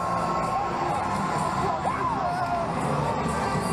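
A stadium crowd cheers steadily at a rugby match, a dense roar of many voices with some higher shouts and whistles rising through it, sustained and fairly loud throughout.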